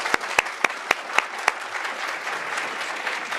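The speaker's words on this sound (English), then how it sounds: "I'd like to give them a little round of applause." A handful of sharp, separate claps ring out at a library symposium's opening, then give way to a steady wash of audience applause that carries on alone.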